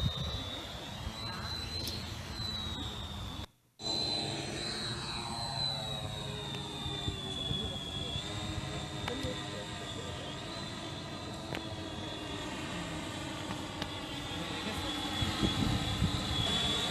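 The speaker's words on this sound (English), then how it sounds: "Third stage shows us flying the drone on a farm provided to us by one of our potential customers." A drone flying over a farm makes a steady high-pitched motor whine that rises and falls as it maneuvers. It drops out briefly near the start, then continues with faint background noise.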